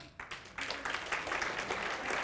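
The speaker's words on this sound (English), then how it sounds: "Big round of applause for Carson." A modest audience at a magic show bursts into clapping that swells quickly and holds steady and fairly close, with no talk over it.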